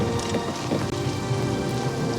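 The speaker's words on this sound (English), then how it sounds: "It's always raining." Steady, dense rain falls with a low rumble of thunder underneath in Oblivion's Shivering Isles, a continuous loud wash of drops with no talking.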